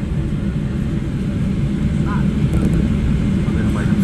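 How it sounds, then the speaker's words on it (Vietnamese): A fixed-wing airplane passes through a clear sky in Vietnam, a steady, loud engine drone that holds throughout, with faint birdsong chirps over it. "một cái máy bay nào đây mình đẹp thế trời ơi."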